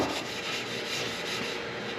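Abrasive Scotch-Brite pad scrubbing a Porsche Cookie Cutter alloy wheel with curb rash, a steady close-up rubbing rasp that runs without a break.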